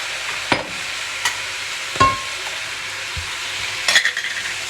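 Minced meat for a bolognese sauce sizzles steadily in a pan, a constant close hiss broken by a few scraping stirs and light clinks of a utensil against the pan.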